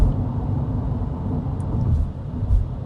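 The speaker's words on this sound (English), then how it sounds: "I'm about to hit a bridge abutment up here." 2025 Hyundai IONIQ 5 XRT on mud tires rolling over a bridge abutment, a steady low road rumble inside the cabin with a faint thump partway through, no voices.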